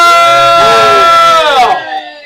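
A loud burst of crowd cheering and whooping, many voices together, fading out quickly after about two seconds.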